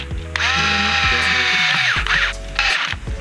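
Electric screwdriver driving the gearbox screws into a Kyosho RC car rear differential assembly, several short whirring bursts with ratcheting clicks as each screw tightens, close and loud.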